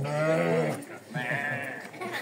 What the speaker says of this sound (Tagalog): Yung mga tupa.